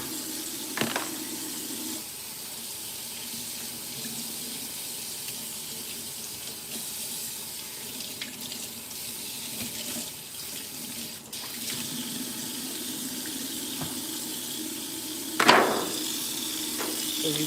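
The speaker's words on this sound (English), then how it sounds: "Rinse them off and do the vinegar again." A kitchen tap runs continuously while food is rinsed in vinegar and water, giving a steady splashing flow into the sink. A couple of louder clatters and splashes come near the start and near the end.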